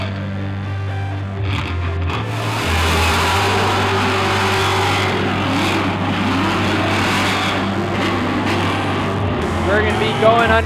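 Drift cars at Formula Drift New Jersey 2012, Round 4, roar into the first corner as Daigo Saito chases the leader. The engines rise and rev continuously under a commentator talking throughout.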